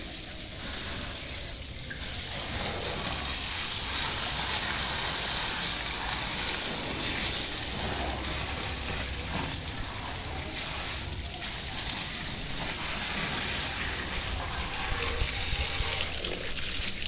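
Water runs steadily from a hose or tap as a Royal Enfield Scram 411 motorcycle is washed at home, a continuous hiss and splash with faint background noise.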